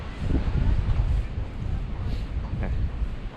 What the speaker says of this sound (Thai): แต่ลมมันพัดแรงค่อนข้างจะหนาว ทำให้หนาวมาก